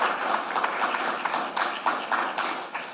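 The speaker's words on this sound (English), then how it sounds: "We'll give her a round of applause in the room." Room audience at a conference on innovating with AI applauds in a short burst of moderately loud, steady clapping that fades toward the end, with no one speaking.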